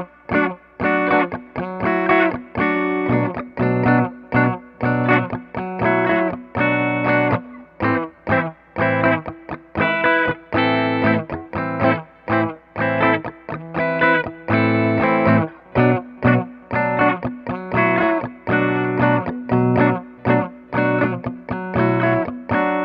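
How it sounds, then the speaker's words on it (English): Gibson electric guitar played through a Fender Blues Jr. tube amp, chunky chords and riffs with slight overdrive and a touch of reverb, loud and close. "guitar is plugged into my favorite amplifier, which is the Fender Blues Jr."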